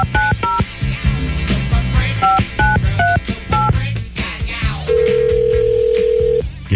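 Telephone keypad tones sound as a number is dialed, a quick run of short two-tone beeps in uneven bursts, followed by a steady held tone, all close and clear over quiet background.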